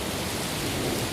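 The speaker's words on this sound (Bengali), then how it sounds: "বাইরে বৃষ্টি পড়ছে," Steady rain falling outdoors, a dense continuous hiss of drops spread evenly across the clip with no voices.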